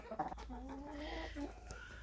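Several chickens clucking softly nearby, with short overlapping calls and a faint higher squawk, against a quiet outdoor background.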